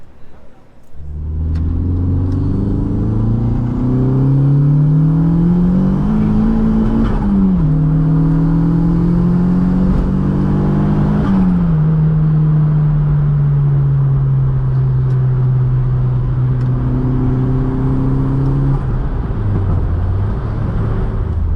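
A car with a 1.8-litre turbo engine revving hard and climbing in pitch through several gear shifts, loud and close from inside the vehicle.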